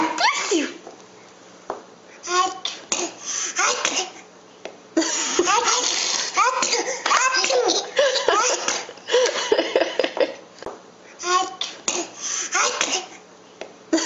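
A twin boy imitates his mother's sneeze, making a series of loud, exaggerated sneezing and gasping sounds broken up by laughter and giggling, close and lively.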